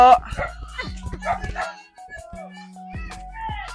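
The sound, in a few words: dog barking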